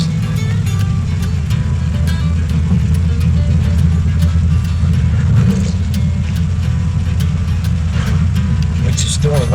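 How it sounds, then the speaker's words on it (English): Steady stream of hot rods and custom cars rolling past at a car show, a continuous low engine rumble with exhaust burble close by, with people talking over it. "I'm sitting here recording all these cars coming at us"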